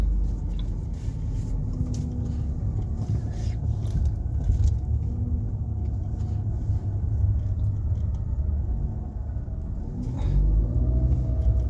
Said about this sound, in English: So we have to drive it slowly.